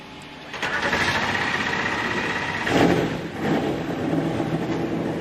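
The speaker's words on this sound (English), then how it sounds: "Drivers, start your engines." Several NASCAR stock car V8 engines fire up at the 2020 Coca-Cola 600 in Charlotte, settling into a dense, rumbling idle with a couple of louder surges from nearby cars amid the crowd-filled speedway ambience.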